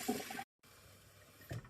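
Fresh water running into the supply pitcher of an Osmio Zero water system, a close, gurgling tap stream that cuts off briefly and then resumes more softly with a splash near the end.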